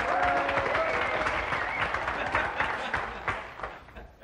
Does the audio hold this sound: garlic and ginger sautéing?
no